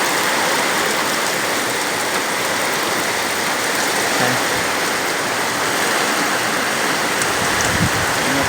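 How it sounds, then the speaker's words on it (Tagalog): Heavy typhoon rain pours down steadily in a dense, unbroken roar, loud and close, with no voices. "Oh, ang lakas ng ulan"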